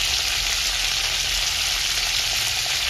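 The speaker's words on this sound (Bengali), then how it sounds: "শিমগুলো ভাজা হয়ে গেছে" Flat beans (sheem) salted and dusted with turmeric fry in hot oil, giving a dense, even sizzle that holds steady throughout over a low rumble.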